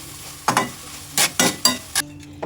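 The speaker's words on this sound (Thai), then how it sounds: "ขึ้นช่ายต้นหอม ใส่ลงไปเลย ตอนนี้ผัดผงกะหรี่หอมมากๆเลยค่ะ" Curry powder stir-fry with celery and spring onion being tossed in a hot pan, with a few sharp scraping strokes and bursts of sizzle separated by brief pauses, close and moderately loud.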